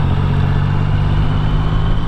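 Triumph Rocket III motorcycle engine while riding, a loud, continuous low rumbling drone close by, steady throughout with no break.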